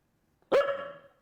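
A single sharp dog bark, close and loud, with a short ringing tail in otherwise quiet surroundings.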